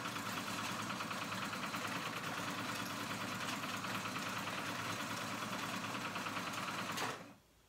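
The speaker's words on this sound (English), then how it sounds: "I'm going to do a zigzag stitch back and forth" Sewing machine running a back-and-forth zigzag stitch on elastic for children's pajamas, a steady close mechanical whir with rapid needle chatter lasting about seven seconds before stopping abruptly.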